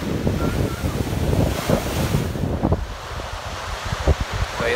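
Ocean waves wash up on a Tasmanian beach in a steady, rushing surf. Strong wind buffets the microphone over the roar, which sounds close and loud.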